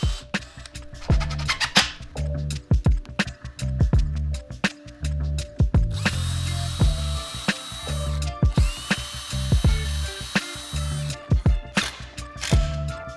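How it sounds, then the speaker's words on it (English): A power drill whirs in repeated short bursts and ratcheting clicks while pre-drilling and driving screws into a wooden Murphy bed frame on a concrete floor, close and loud, with longer runs in the middle. "I then pre-drilled and screwed the entire frame together"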